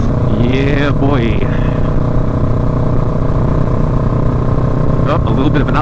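Motorcycle cruising along the Blue Ridge Parkway through sweeping mountain curves, with a steady, loud engine drone and wind noise throughout, and a rider talking over it at moments.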